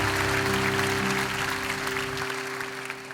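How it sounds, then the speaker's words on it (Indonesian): A crowd at a church youth worship concert applauds, a dense patter of many clapping hands over a lingering sustained musical tone that fades partway through, with the clapping thinning out toward the end. "Boleh tepuk tangan kita."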